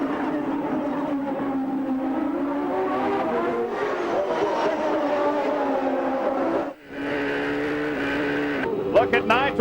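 1994 IndyCar race cars roar side by side down a long back straight, engine drone continuous and close under steady commentary, with a brief dip near the end.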